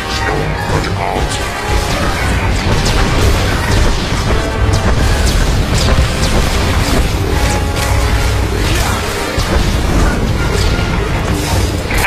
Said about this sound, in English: he's been targeted for a heavy missile attack. This attack will slam not only him, but anyone standing nearby